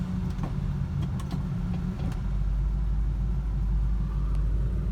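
A Duster's engine idles at about 1,000 rpm with the air conditioning running, a steady low rumble up close with a few light clicks, then dropping into a deeper, heavier drone as it is put into gear.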